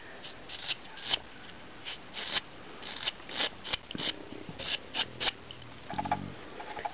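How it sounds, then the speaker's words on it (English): Scissors snip the point off a tassel in a rapid series of short, crisp cuts and rustles, close and fairly quiet, with no voices. "You can cut that point off"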